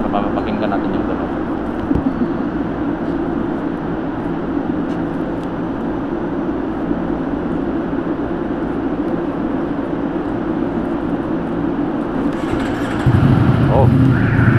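A Ducati big bike's engine runs close and loud in a steady, rough drone for the whole stretch, shifting in tone near the end.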